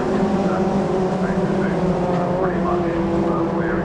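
Toyota MR2 race cars drive in a championship race at Brands Hatch, with engines droning steadily and loudly and pitch rising and falling as they head into a corner. A commentator talks over the engines.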